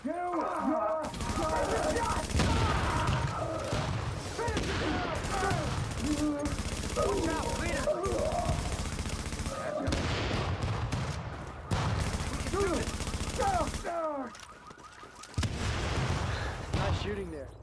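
Rapid gunfire in The Division 2 video game, dense bursts and volleys running almost without pause, loud and close, with brief gaps and a few sharper shots.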